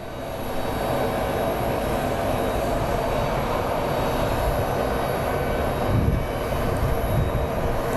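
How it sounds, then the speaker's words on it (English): An airplane engine roars steadily at Phoenix Sky Harbor International Airport, a sustained loud jet rumble that swells slightly near the end, with no talking. "Why are all the big planes going south?"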